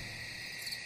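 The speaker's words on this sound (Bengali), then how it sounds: "ঘন অরণ্যের মাঝে পেঁচা আর ঝিঝি পোকার ডাক ছাড়া কিছুই কানে আসছে না" Crickets chirp in a steady, continuous trill through a dense forest at night, a soft high-pitched drone with no voices and no breaks.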